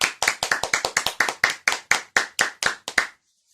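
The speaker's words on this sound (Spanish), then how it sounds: "Un aplauso." A small audience claps for Francisco after his kind words, about sixteen distinct, close hand claps in a brisk, slightly uneven rhythm, ending abruptly in silence.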